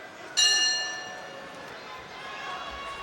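A boxing bell rings once to end the first round of a Teofimo Lopez fight, a loud ringing strike that fades slowly over crowd noise from the arena.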